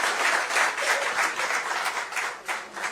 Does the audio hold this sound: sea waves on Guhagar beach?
no